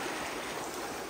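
Avery Creek near Brevard, North Carolina flowing beside a hiking trail, a steady rushing water hiss with no breaks, close and even throughout.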